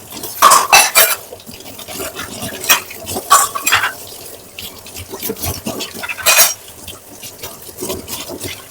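Dishes and cutlery clink and clatter intermittently with sharp, close scraping sounds and splashes, no voices.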